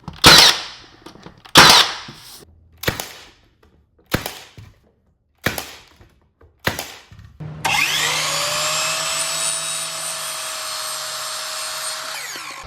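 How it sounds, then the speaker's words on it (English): Brad nail gun driving 2 1/4-inch brad nails into baseboard, six sharp, evenly spaced pneumatic shots close by, followed by a steady whining hum like a compressor or power tool running continuously. "For nailing on, I'm just using 2 1/4 inch brad nails still."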